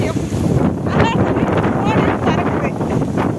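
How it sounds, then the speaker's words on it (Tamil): Strong wind roars and buffets the microphone continuously, loud and close, while a person talks underneath it. "ஃபோனே பறக்குது பாருங்க. காற்று அடிக்குது."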